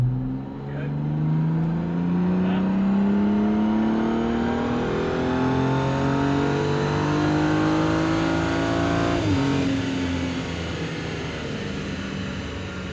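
A BMW F-series car is run at full throttle on a dyno. The engine winds up in a long, steady climb, then dips for an upshift and rises again. Loud and continuous, with no talk.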